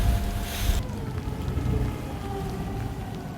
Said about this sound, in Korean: 요 비가 또 내리기 시작하는데